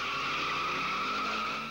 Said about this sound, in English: Tires spin, engines roar, and the race is on.